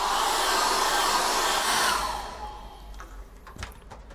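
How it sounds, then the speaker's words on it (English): A hair dryer blows steadily at close range over wet acrylic paint on a canvas for a misty forest painting, then shuts off abruptly near the two-second mark, leaving a quiet room with faint clicks and handling noises. "when you use a hairdryer and it gets hot"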